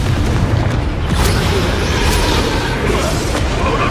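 Confringo blasting spell explosion in Hogwarts Legacy, a dense continuous roaring boom with crackling debris that fills the whole stretch at high loudness, with faint voices underneath.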